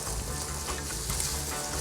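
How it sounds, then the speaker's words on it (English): Garlic, peppers and green onions stirred in a hot pan while cooking rasta pasta, a steady close sizzle of frying with soft scraping from the stirring, no talking. "Give that a good stir."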